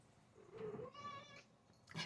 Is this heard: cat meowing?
yes